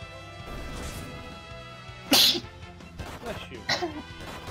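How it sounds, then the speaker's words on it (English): A sudden sharp sneeze combined with a hiccup bursts out once, loud and close, over steady game music and background voice, followed by a smaller burst a moment later. "I sneezed and had a hiccup at the same time."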